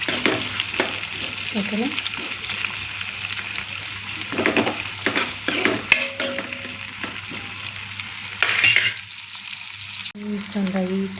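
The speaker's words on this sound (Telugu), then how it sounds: "గోల్డెన్ కలర్ వచ్చేదాకా వేయించుకోండి." Onions frying and being stirred in a pan for a tomato curry, steady close sizzle with scraping spoon strokes throughout, and a brief voice near the end.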